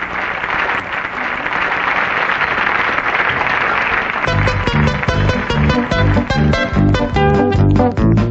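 An audience applauds a music trio with dense, steady clapping for about four seconds, then the trio's instrumental music starts and carries on at full volume.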